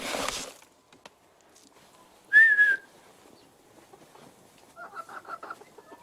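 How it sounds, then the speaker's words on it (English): Chickens cluck at feeding time while a rooster gives a short, shrill call midway through, followed by a quick run of clucks; the birds sound fairly close in an otherwise quiet yard. "There's that noisy rooster someone dropped off."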